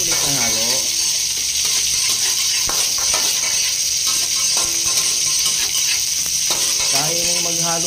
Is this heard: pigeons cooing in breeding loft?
no